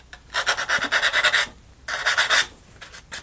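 Sandpaper rubs a wooden part of a Jigtoy Flying Dutchman model kit in two bursts of rapid back-and-forth rasping strokes, close and fairly loud, with a short pause between them.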